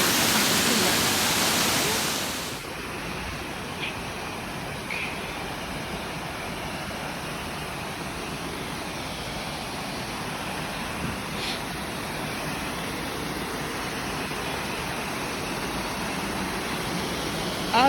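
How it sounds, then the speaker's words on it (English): Small waterfall in Snowdonia, a steady broadband rush of falling water heard close and continuous throughout, with a brief louder burst at the very start. "Yeah, this is small waterfall."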